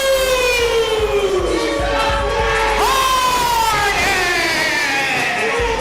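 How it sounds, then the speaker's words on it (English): A wrestling crowd roars a sustained chant of "boom" for a Camden, New Jersey wrestler, the long drawn-out calls rising and falling in loud overlapping waves across a packed room. "they're not saying boo, they're saying boom"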